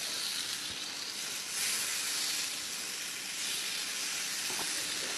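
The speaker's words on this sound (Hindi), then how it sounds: "अब हम डाल देंगे पनीर टिक्का" Paneer tikka frying in ghee on a fully heated iron griddle pan, giving a steady, close, continuous sizzle and hiss with a brief swell partway through and no talking.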